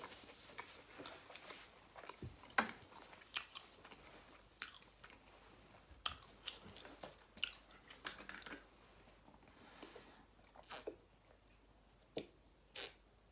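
Crunchy onion rings being bitten and chewed up close during an eating session, irregular crisp bites and munching with quiet gaps between them.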